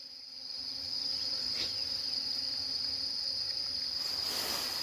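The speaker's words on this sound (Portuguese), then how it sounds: "Tanta abelha." A steady high-pitched insect drone, with many bees near a muddy lake, fills the scene continuously after a brief rise, with faint outdoor background and no talking.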